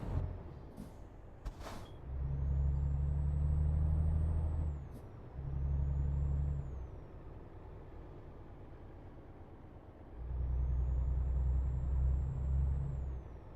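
Vehicles in Euro Truck Simulator 2 pass the player's truck one after another, three swelling rumbles of engine and road noise with faint high whines and pauses between them.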